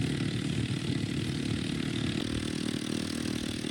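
A quad bike engine drones steadily on a desert safari near Abu Dhabi, a close, rough, buzzing mid-pitched motor sound with no change in speed over a few seconds.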